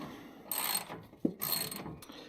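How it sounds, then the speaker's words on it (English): A scissor or trolley jack ratchets under one corner of a Mazda MX-5 being lowered in a garage, two bursts of mechanical clicking separated by a sharp knock, close and moderately loud, with no talking. "I'm just going to jack up this corner and then tighten all the bushings"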